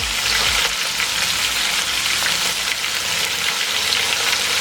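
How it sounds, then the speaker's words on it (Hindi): Chicken frying in a pan while cooking chicken karahi, a loud dense sizzle with crackling spatter that continues steadily without pause. "चिकन हमारा अच्छे से फ्राई हो गया।"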